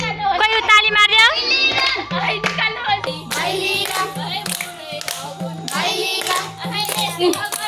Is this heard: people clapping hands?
yes